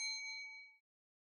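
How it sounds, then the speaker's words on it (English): A single clear bell ding, bright and ringing, struck once and fading out within under a second into silence, used as a sound effect in a hotel setting. "In response to the ringing of the bell"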